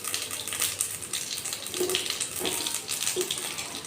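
Cumin, mustard seeds and dried red chillies frying in hot ghee give a steady, bright hiss that crackles throughout, with a few louder pops near the middle and end.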